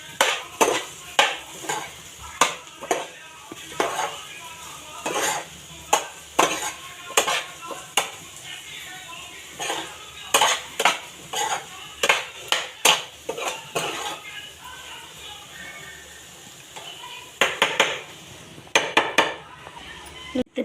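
Food stirred and mixed in a metal pot with a utensil, making repeated scraping clinks in irregular bursts, close and fairly loud, with kitchen background and sizzling underneath.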